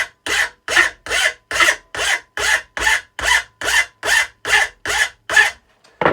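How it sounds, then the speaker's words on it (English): Rhythmic rasping of a hand file worked across a chainsaw bar to remove its lip, about a dozen even strokes in a steady rhythm, each a close, crisp scrape, with no voices. "And then you just grab a file."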